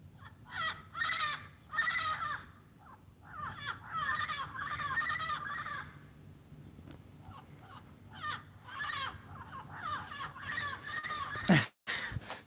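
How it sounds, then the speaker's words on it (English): A flock of parrots gives repeated harsh, raspy squawks in overlapping bursts with short gaps, moderately close and fairly loud, ending with a sharp thump. "It's a bunch of parrots."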